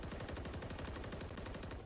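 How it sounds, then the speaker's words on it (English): Rapid automatic gunfire in a competitive video game match, a dense, continuous rattle of shots at a steady fast rhythm, loud and close, fading slightly at the very end. "There's the opening hail of gunfire again."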